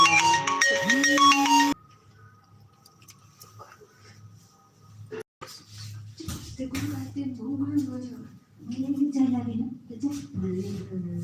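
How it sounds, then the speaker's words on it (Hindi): An incoming-call ringtone plays loudly as a repeating melodic tone during a live music stream, then cuts off abruptly after about two seconds, followed by quiet background noise and someone speaking. "कौन फोन भी कर रहा है?"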